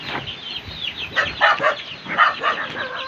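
Several chickens cluck and squawk close by in a busy, overlapping chorus, with no voices.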